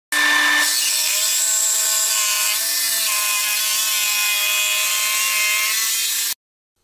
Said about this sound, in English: To cut the V section of the legs out, I use a couple clamps, a straight edge, and my jigsaw.